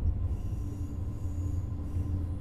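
ICE 3 high-speed train in Train Sim World 4 rolling over a track switch near München, a steady low rumble of wheels with faint rhythmic clatter, continuous and fairly close, no talk.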